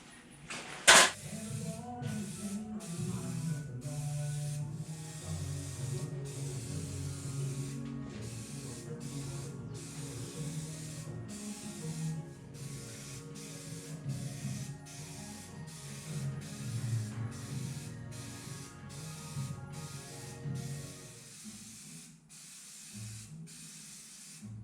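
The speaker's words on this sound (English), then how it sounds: "We're gonna start putting some coats of paint on this thing." Rattle-can spray paint applied to a car firewall in a long steady hiss, broken into many short pulses and bursts, with a sharp clack near the start and the spraying tapering off at the end.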